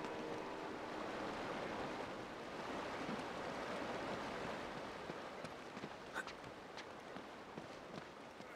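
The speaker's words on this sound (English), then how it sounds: "A waterfall." A steady rushing roar of a waterfall in Uncharted: Drake's Fortune fills the scene, broad and constant, with a few faint clicks and movements near the end.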